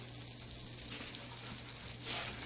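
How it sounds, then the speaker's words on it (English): Cube steak fries in a pot with a steady, close sizzle and crackle, running continuously at moderate loudness under a faint low hum. "I'm just going to fry the meat up real quick"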